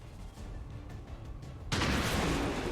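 A loud shotgun blast in XCOM 2 erupts abruptly partway through, a dense broadband burst that stays heavy and booming over the low rumble of game ambience.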